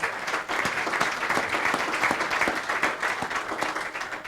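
Sustained applause from a room of attendees at a mayors' luncheon, dense and steady clapping throughout with no pauses, fairly close and full.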